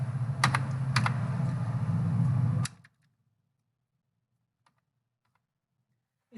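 Rapid typing on a computer keyboard while entering a mobile number and captcha into an online form: close, dense key clicks for over two seconds, then near silence with a couple of faint taps and a final click.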